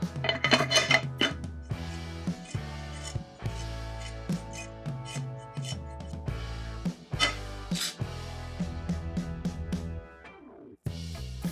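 Dried koonee shrimp are dry-fried and stirred in a pan, with repeated metal clinks and scrapes of a spatula against cookware over a low background.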